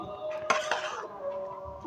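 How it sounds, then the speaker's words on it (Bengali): Boiled chickpeas tip into a bowl of puffed rice mixed with mustard oil, a brief close clatter and clink against the bowl, followed by quieter rustling. "এতে বুট দিয়ে দেওয়া হচ্ছে।"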